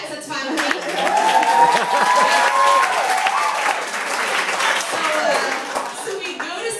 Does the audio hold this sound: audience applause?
yes